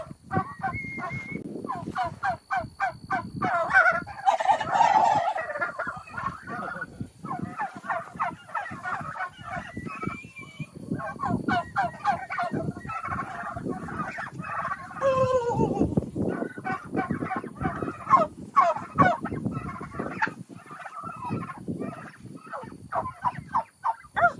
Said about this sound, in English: see some of the males. They look like little miniature turkeys, and they're starting to like fan out and strut